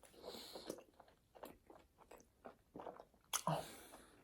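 Close, quiet chewing of a big mouthful of cheesy baked beans on toast, with soft wet munching bites and small crunches of toast repeating irregularly.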